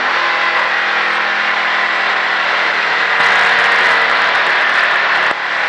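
Race car on Texas Motor Speedway during a Richard Petty Driving Experience, a loud steady engine drone in the cabin that shifts in tone as the driver lifts off the gas, then dips slightly near the end.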